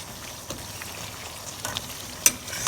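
Portuguese devil curry fries in oil over medium heat, a soft, steady sizzle with occasional stirring scrapes and small clinks, close and quiet with no talk.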